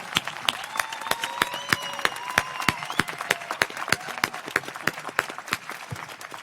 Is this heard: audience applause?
yes